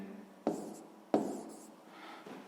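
A pen or marker writing a math equation by hand, with two sharp strokes followed by lighter scratching, close and quiet with no talking.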